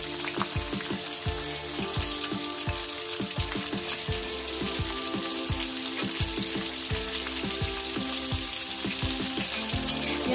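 Chopped onion sizzles in hot oil with whole cumin seeds and two bay leaves for a jackfruit curry, a steady close crackle with occasional stirring knocks throughout.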